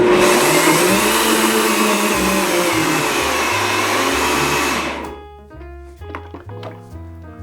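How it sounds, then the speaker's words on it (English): A blender purées potato leek soup, a loud, steady whirring drone that runs for about five seconds and then cuts off, leaving quieter clatter and kitchen sounds behind. "I'm gonna go ahead and blend this,"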